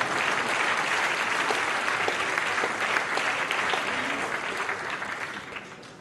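A large dinner audience applauds during a speech on secularism and antisemitism, dense continuous clapping that holds steady and tapers slightly toward the end, with no voices over it.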